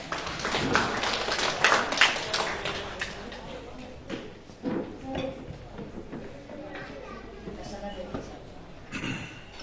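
An audience at a memorial gathering applauds to welcome a speaker, with scattered clapping that swells early and then thins out while a voice speaks over it.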